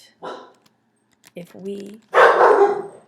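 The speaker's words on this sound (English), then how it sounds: "that's my dog and she's very small so she sounds big" A small female dog barks loudly in a burst near the end, following a man's nearby speech in an indoor setting.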